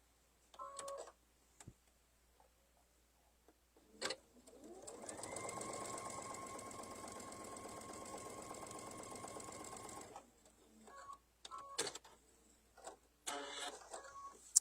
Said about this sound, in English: we're going to sew right on that line.